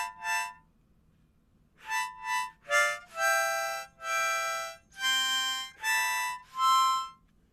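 A harmonica plays a halting melody, a series of sustained reedy notes and short breathy phrases at moderate volume, with no speech.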